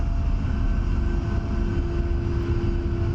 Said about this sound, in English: let's see how easy this thing's going to be to get off the ground